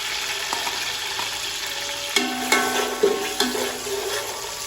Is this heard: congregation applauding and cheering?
no